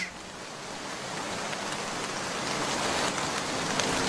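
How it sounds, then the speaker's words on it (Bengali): Dense, heavy rain in a storm in a forest pours in a constant roar that slowly grows louder, broad and enveloping, with no voices. "দেখ কেমন ঝড় হচ্ছে, গাছগুলো ভেঙে যাবার অবস্থা।"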